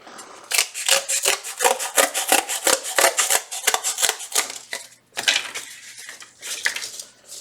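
Scissors snip through two paper strips at once for a colorful shape sculpture, a rapid run of crisp rhythmic cuts close up, a short pause, then a few more snips.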